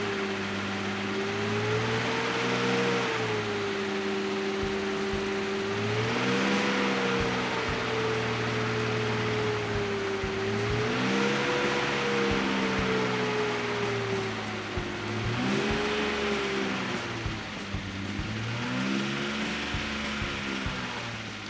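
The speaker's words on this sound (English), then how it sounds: "the engine starts" A BMW S52 engine in an E36 M3 starts and settles into a steady idle with a slight wavering pitch, loud and close with a busy, ticking valve train, and no voices over it.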